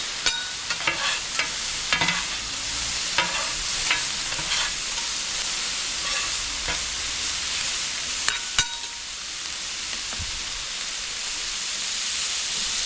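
Onion and pepper strips for fajitas cooking in a pan after a splash of water, a continuous hissing sizzle with scattered utensil scrapes and taps, no talk.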